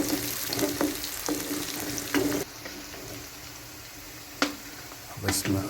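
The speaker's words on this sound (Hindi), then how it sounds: "सब्ज़ी मिर्चें भी आप डाल दें, बारी बारी इनको डालते और हल्का हल्का भूनते जाएं।" Chicken frying in a pot with vegetables and chillies for an achari handi, giving a steady close sizzle with occasional stirring clatter. The sizzle drops to a quieter hiss partway through and picks up again near the end.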